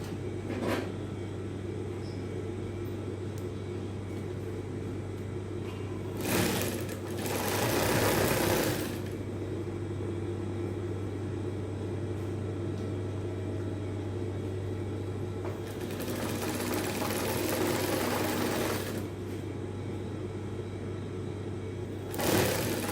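A sewing machine stitches the center back seam and facing of a funnel dress in bursts of close, rapid whirring, with quieter hum and handling sounds between the runs.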